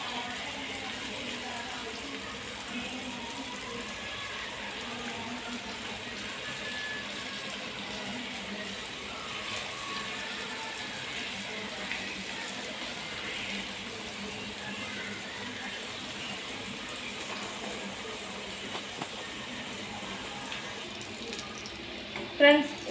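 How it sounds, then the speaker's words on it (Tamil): Pieces of a wheat and potato snack fry in hot oil with a steady, soft sizzling hiss that lasts throughout, with a small clatter near the end. "இப்போ நம்ம செஞ்சு வச்சுருக்கிற இதை ஆயிலில் போட்டு பொரிச்சு எடுத்துக்கலாம்."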